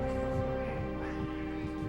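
A short duck quack effect plays over game music during a Final Fantasy VI speedrun, looping faintly and steadily through the two seconds.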